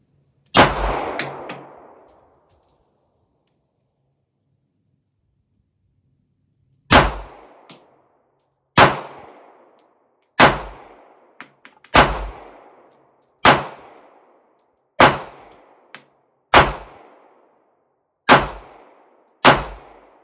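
Pistol shots from Glock and Bodyguard handguns fire outdoors: one loud crack, a pause of several seconds, then a steady string of about nine sharp, evenly spaced shots, each with a short ringing tail.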